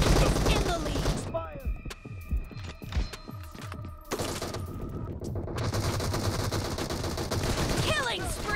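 Bursts of automatic gunfire in a PUBG team deathmatch, loud and continuous with rapid rattling shots layered over game effects and a steady background din.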